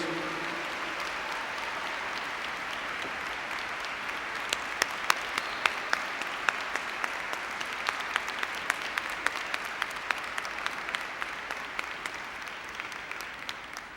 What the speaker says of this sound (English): Let's give them a round of applause for the dedication and help that they've given you over the years.